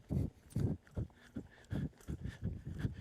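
A ridden filly walking, with hooves clip-clopping in an even, rhythmic beat, clear and moderately close, with no voices.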